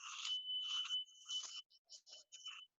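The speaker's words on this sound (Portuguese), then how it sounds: "Eu vou começar com o sininho e termino com o sininho" At the start of a meditation session, a small bell is struck several times in quick succession. It gives a bright, ringing tone that lingers, then trails into shorter, fainter taps.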